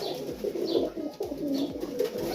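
Young pigeons cooing close by, repeated soft rolling coos in a steady rhythm with faint higher chirps between them.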